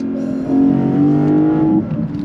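A Lexus IS500 exhaust note through its standard quad tips: a loud, steady engine drone that swells slightly midway, like a moderate rev, with no talking over it.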